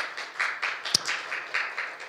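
Church congregation at a Sunday worship service applauding, soft rhythmic clapping in even bursts, somewhat distant and moderate in level, with one sharp tap partway through.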